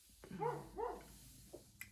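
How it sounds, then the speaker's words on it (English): A dog barks twice in quick succession near the start, then gives a softer yelp and a brief high sound at the end, fairly close and alone without talk. "I'm so tired of my ratchet dog."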